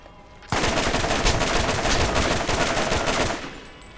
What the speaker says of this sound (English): with this sniper rifle, since I have so few rounds available to me, I can hit them and then you can finish them off